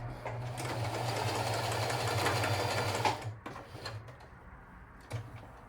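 A sewing machine runs steadily for about three seconds while going over a garment edge during a thrift-flip dress alteration, then stops and gives a few short bursts of stitching in reverse.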